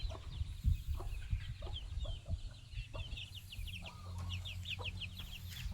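Chickens cluck and chatter in a busy coop, with overlapping calls from several birds over a low background hum.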